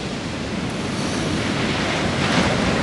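Steady roar of ocean surf breaking at Anglet, France, broadband and continuous, with wind noise buffeting the microphone throughout.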